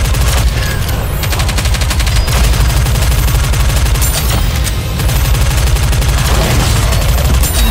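Bombardment in Goddess of Victory: Nikke, a relentless, very loud wall of rapid automatic gunfire with deep thudding blasts that never lets up.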